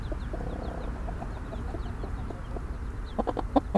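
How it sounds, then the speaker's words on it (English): Two hens cluck softly with their five chicks in a coop, steady low clucking and faint peeping building to a few louder, sharper clucks near the end. "Between two hens, we have five babies."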